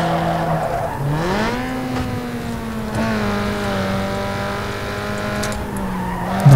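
A Toyota Celica races aggressively in Need for Speed Underground 2, its engine revving hard and climbing in pitch through gear changes while tires squeal and skid, loud and close with no talking.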